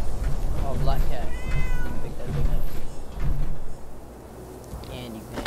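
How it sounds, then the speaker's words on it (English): A black cat meows in the video game Fallout 76, a few short calls heard over steady game background noise while people talk throughout. "Oh, black cat."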